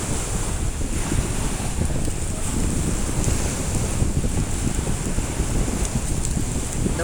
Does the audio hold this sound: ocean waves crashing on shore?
yes